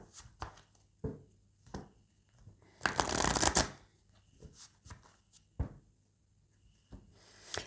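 Oracle cards being shuffled by hand, with soft riffling flicks and taps spread through the clip and a dense, louder burst of shuffling in the middle, close and with no talking.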